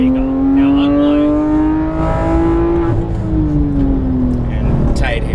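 A Porsche GT3 RS engine revs on a race track, its pitch climbing and then easing off under throttle, loud and close from inside the car, with a voice briefly audible over it.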